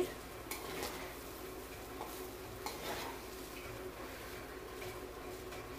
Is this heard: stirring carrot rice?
yes